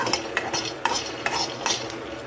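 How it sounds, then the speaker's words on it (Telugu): Peanuts dry-roasting in a pan while being stirred, giving repeated scraping and rattling strokes with a faint sizzle, close and steady, no voices. "పల్లీలను ఒక ప్యాన్లో వేసి దోరగా వేయించుకోవాలి."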